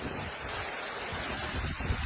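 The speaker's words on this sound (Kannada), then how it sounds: "ಇಲ್ಲಿ ನೋಡಿ ಸಿಕ್ಕಾಪಟ್ಟೆ ಗಾಳಿ ಇದೆ" Steady, roaring gusts of strong wind buffet the microphone outdoors near a petrol station, a dense continuous rush with low rumbling throughout.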